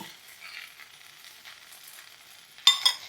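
Ivy gourd pieces frying in a pan for a pickle give a faint, steady sizzle throughout, with a louder burst of crackling near the end as the pan is stirred.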